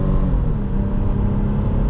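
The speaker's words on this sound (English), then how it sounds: "I love the way this V6 sounds." A 2005 Toyota Highlander 4WD's V6 engine growls loudly and steadily as it accelerates, a deep rumbling roar close by with no voices.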